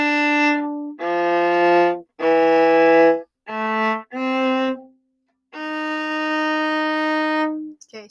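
Cello or bass plays measures 61 and 62 of a theme from Harry Potter: a run of sustained bowed notes with short gaps between them, close and clear, with no talking.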